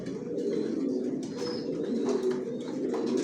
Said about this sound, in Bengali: সব নিজের লফটের বাচ্চা, নিজের লফটের কবুতর বিক্রি করি